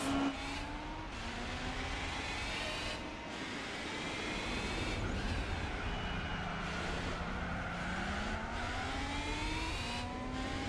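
Race cars in Gran Turismo 4 at Hong Kong Harbour, starting a Dream Car Championship race: continuous engine roar with repeated rising revs and gear shifts, several cars layered close together, loud throughout.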